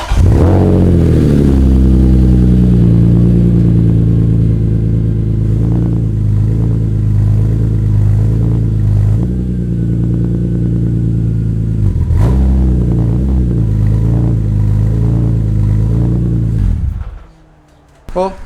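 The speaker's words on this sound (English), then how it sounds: "I'll turn on the car just so you can hear the exhaust and everything" A BMW E46 M3 runs with a loud, steady exhaust drone that swells with a few blips of revs, then cuts off abruptly near the end.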